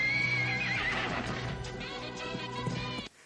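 A white horse in a film gives a loud, drawn-out neigh and whinny, followed by snorts and hoof clip-clops before the sound cuts off abruptly.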